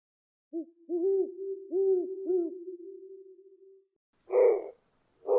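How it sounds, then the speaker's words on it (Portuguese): A Congo owl in tropical forest gives a short series of soft, hollow hoots that trail into a longer tone, faint and nearby in near-silence. A couple of rougher, breathier calls follow after a pause. "A coruja do Congo acordou."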